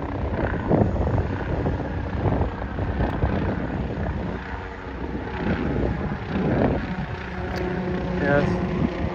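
Helicopter flying low overhead, a few hundred feet up, above a lake boat launch, its steady rotor drone heard under wind buffeting the microphone and someone talking nearby.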